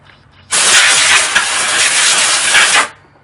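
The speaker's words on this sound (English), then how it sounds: "If you're using an air compressor and have a blow gun, once you do that," A compressed-air blow gun fires one continuous loud, close hiss for about two and a half seconds, cutting in sharply and stopping abruptly, with no voices, while clearing debris during rear brake work on a 2014 Nissan Altima.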